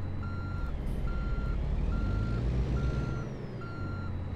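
Reversing alarm of a semi truck in American Truck Simulator, a steady series of evenly spaced beeps, loud and close over a low diesel engine rumble and hiss, with no speech.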